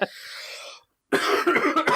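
A person on a podcast coughs twice, close to the microphone, with a short silent gap between the two harsh bursts.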